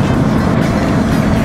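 A Kawasaki 500SS Mach III motorcycle engine idles unsteadily with its charge warning lamp lit, giving a loud, continuous low mechanical rumble with a rough, uneven texture and no voices.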